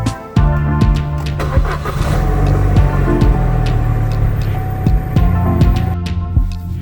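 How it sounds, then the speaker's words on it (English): A car engine cranks and catches, then settles into a steady idle with repeated sharp clicks and knocks over the running motor, heard close and fairly loud. "Gonna go start the car, get her all nice and warmed up"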